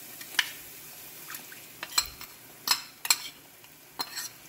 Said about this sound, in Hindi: लो टू मीडियम फ्लेम पे फ्राई होने देंगे जब तक ये ऑयल सेपरेट ना हो जाए